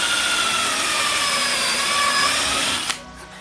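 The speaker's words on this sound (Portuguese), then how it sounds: "vou usar uma broca, fazer um furinho" An electric drill bores a hole in a small piece of wood clamped to a table, a loud, steady whine held close up for about three seconds before it abruptly stops.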